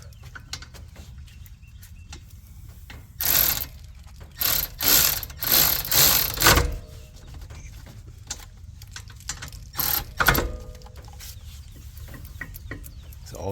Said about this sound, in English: Now I'm reinstalling the caliper bolts.